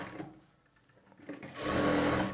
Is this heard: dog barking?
no